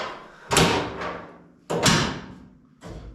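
Rat rod tailgate being shut, three loud close slams and thuds, each ringing briefly and fading, with pauses in between.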